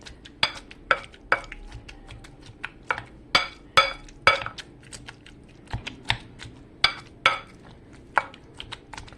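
Squash being smashed in a bowl with a meat tenderizer, a series of sharp clacking knocks at an uneven rhythm, close and fairly crisp, with quieter scraping between strikes.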